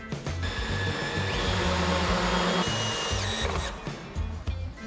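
Power driver with a 13 mm socket running lag screws through freshly drilled holes into a tank fitting, a steady loud whirring drone with pitch shifts and brief stops between bursts, no voices.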